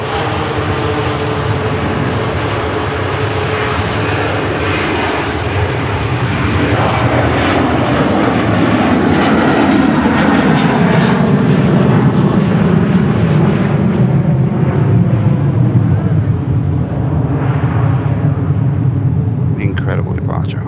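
A jet airliner departs runway 23 right at Manchester Airport with a loud, broad engine roar that swells and then slowly fades over about twenty seconds, while a voice talks over it.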